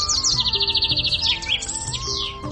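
A small bird chirps in a quick, high-pitched run of rapid tweets, close and clear over a soft musical background, then trills again briefly.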